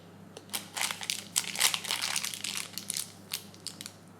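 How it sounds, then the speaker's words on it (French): A plastic packet crinkles and crackles in irregular bursts as someone works to open it, close and fairly quiet, with no talking. "Tu essayes d'ouvrir le sachet?"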